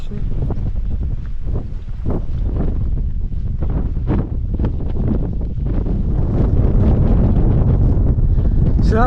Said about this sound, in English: Real wind trap up here